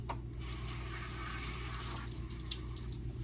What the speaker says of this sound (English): I'm going to go ahead and rinse my hands off.